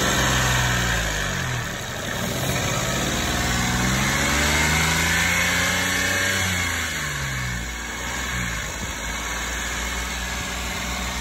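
A Toyota Aygo / Peugeot 107 / Citroën C1 engine runs steadily at a raised idle while checking for a misfiring cylinder, a constant close-up hum with slight rises and dips in pitch and no talking.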